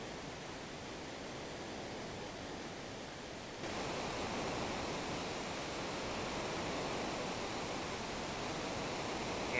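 Steady broadband rush of a waterfall in Final Fantasy VI, a constant wash of water noise with no voices that gets a little louder partway through and holds there to the end.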